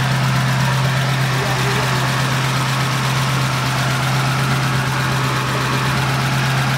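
A flathead V8 engine in a 1953 Mercury Custom idles steadily up close, a low, even rumble with a smooth mechanical throb that holds throughout.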